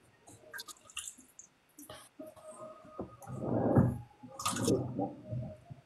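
A person urinating into a toilet: a splashing, trickling stream builds up after a few scattered sounds and runs fairly close and steady, with brief voices in between.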